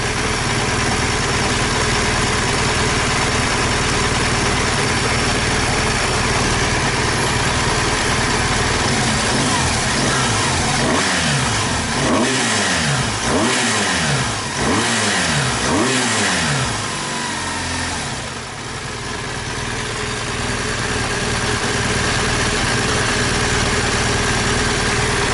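BMW R1200 GS Rallye motorcycle engine running steadily at idle, then revved in several quick blips that rise and fall before settling back to a low idle, recorded up close with no talking.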